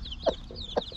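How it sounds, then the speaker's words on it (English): Week-old chicks give soft, close peeping calls over a low background: two short, brighter calls stand out, with high thin cheeps running throughout and no talking. "1 week old chicks."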